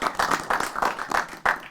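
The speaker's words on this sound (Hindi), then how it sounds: "और मेरा ख्याल है तालियां बनती" An audience at a Christmas singing show breaks into applause, a dense spell of close, steady clapping with no voices over it.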